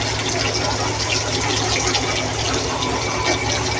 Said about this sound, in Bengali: পেঁয়াজ দিয়ে দিচ্ছি।